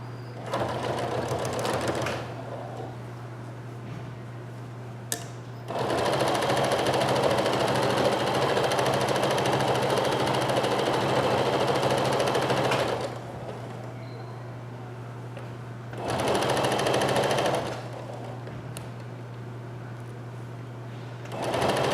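Sewing machine stitching a sweatshirt pocket, a loud, fast mechanical whir running in long bursts with short pauses between them, close and alone.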